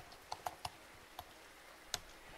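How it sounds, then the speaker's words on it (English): Several faint, sharp clicks of keys being pressed on a computer keyboard, spaced irregularly over a quiet background. "So now when I press the S key on my keyboard, the sound player starts."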